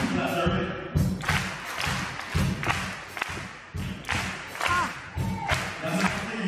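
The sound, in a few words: group doing two claps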